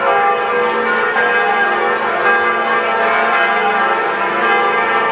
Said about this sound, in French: Voilà le carillon des cloches de Notre-Dame de Paris.